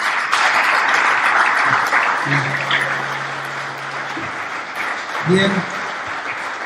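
An audience at a plenary session bursts into applause that is loudest at first and then thins out while someone speaks over the tail of it.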